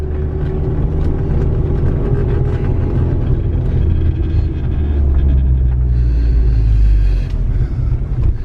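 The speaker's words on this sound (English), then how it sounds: "Barely giving it gas because we are in first gear." Steady low engine rumble from a VW MK4 GTI under light throttle in first gear, heard close and continuous with a slight rise in pitch toward the end.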